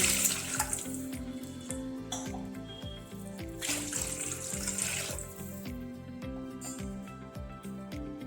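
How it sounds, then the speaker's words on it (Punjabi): Two glasses of water pour and trickle into a pot of rice, a burbling stream with rising gurgles, close and fairly quiet, with no talking. "ਦੋ ਗਲਾਸ ਆਪਾਂ ਪਾਣੀ ਦੇ ਪਾ ਦਵਾਂਗੇ"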